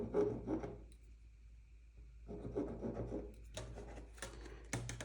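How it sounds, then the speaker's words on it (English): A line marked on fabric for a tote bag: faint, close scratchy rubbing strokes in short bursts, separated by brief pauses, with soft handling noises. "I'm gonna mark another line 1/2 inch down from that line"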